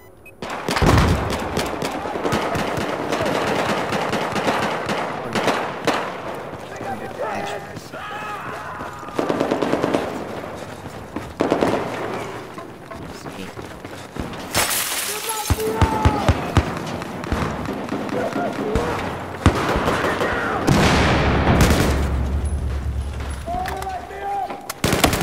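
Rapid bursts of automatic gunfire and sharper single shots crack close and loud in Battlefield 4 multiplayer, with irregular pauses and a heavy low rumble near the end, under occasional talk.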